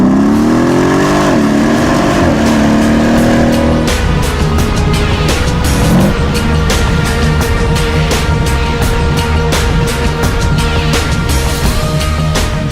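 A Mercedes-AMG 5.5-litre V8 biturbo engine revs up loudly and drops back, then keeps up a dense, pulsing roar with sharp rapid crackles, close and constant throughout.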